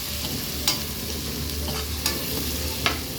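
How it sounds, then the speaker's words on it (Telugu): Chicken frying in a pan with turmeric and ginger garlic paste, a dense continuous sizzle with a few sharp scrapes of stirring, close and loud with no voices. "చికెన్ యాడ్ చేసి కలుపుకున్నాము. ఇది కొంచెం ఫ్రై అవ్వాలి."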